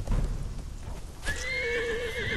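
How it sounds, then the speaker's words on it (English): A horse in the video game Conan Exiles whinnies loudly, a long high neigh rising out of a muffled thumping background, close and clear. "Right, the horse is down there suffering,"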